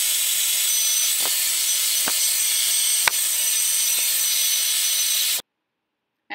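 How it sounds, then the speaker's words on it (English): Hair dryer blowing hair straight and shiny during a Dominican wash and set, a steady close airy hiss with a few faint clicks before it cuts off abruptly near the end. "I'm just going to keep on blow drying her hair until it's shiny and straight"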